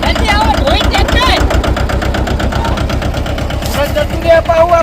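A tractor engine idles nearby with a loud, steady low chugging throb while people talk over it.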